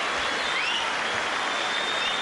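Steady broadband applause fills the whole stretch, a dense crowd clapping after a hard-fought boxing bout between Alex Arthur and Steve Foster Jnr, with no talk over it.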